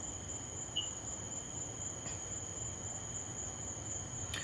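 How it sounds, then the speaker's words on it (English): Steady cricket chirping fills the scene with a continuous high, even trill, faint and constant with no other sounds or voices. "But just nothing but crickets."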